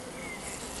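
Honey bees hum in a steady, dense drone inside a hive left thinned after a swarm, close and even for a brief moment with no voices.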